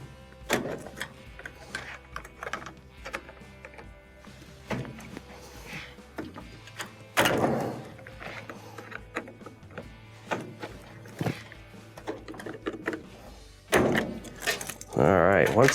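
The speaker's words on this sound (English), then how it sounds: "I'm just going to use a tack puller to pry off on them." A tack puller prying stiff water lines off a washer's inlet solenoid valve, sharp clicks, scrapes and plastic knocks at irregular intervals, close, with a voice talking at times.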